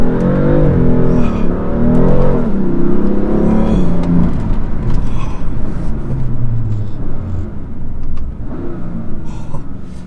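Close, loud engine roar from a BMW M3 F80 accelerating, rising in pitch over the first few seconds and then settling into a deep rumble with another surge near the end.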